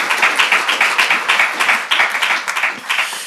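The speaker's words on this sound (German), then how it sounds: "vielleicht ein Applaus." Steady applause from an audience at an academic dissertation award ceremony, a dense patter of clapping hands that continues throughout.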